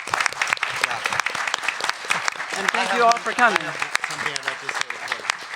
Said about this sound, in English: let's have a round of applause for this panel